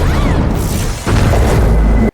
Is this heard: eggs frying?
no